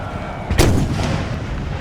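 A single artillery cannon fires during a Napoleon: Total War battle, one sharp booming report followed by a rumbling tail, loud and close with no talk.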